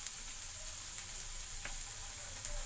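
Vegetables sizzling in hot oil in a pan, with a steady hiss and a few faint clicks of stirring, alone without talk.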